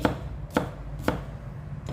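Four evenly spaced knife chops land on a cutting board, crisp and close, with a quiet pause between each stroke.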